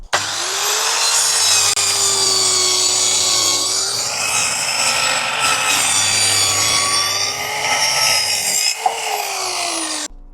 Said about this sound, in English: Fits to your normal circular saw, and hopefully we get a nice straight cut.